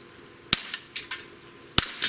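Walther PPQ M2 pistol firing at plinking targets outdoors, two loud sharp shots about a second apart, each followed by quick metallic target pings and echoes.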